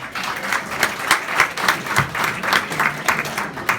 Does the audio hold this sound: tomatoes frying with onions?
no